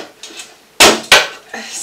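Glass panel from an oven door being taken off, a few sharp clattering knocks and clunks of glass against metal, two loud impacts close together followed by a lighter rattle.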